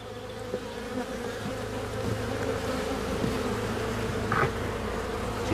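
Steady, dense buzzing of many bees close by around a hive frame, a continuous droning hum with occasional louder passes, no voices.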